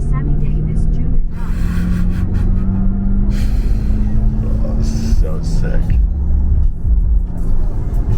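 Lamborghini Huracan driving on the freeway, its steady engine rumble and road noise filling the clip from start to finish while a voice talks excitedly over it.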